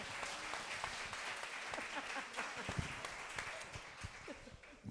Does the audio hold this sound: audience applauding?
yes